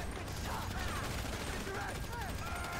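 Dense, continuous gunfire from a GTA V Online firefight, a steady rattling barrage filling the whole stretch, with game speech and voices mixed in underneath.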